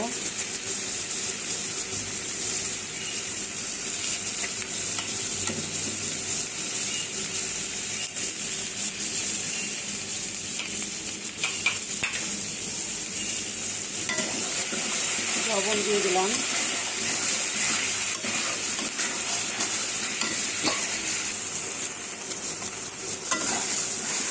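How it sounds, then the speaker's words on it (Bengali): Masala spice paste with added water stirred and fried in a pan, a steady low sizzle with scraping stirs throughout, moderately close, with a brief bubbling burst partway. "পানি দিয়ে দিলাম কষানোর জন্য তো মশলাটা কষাইতে থাকি"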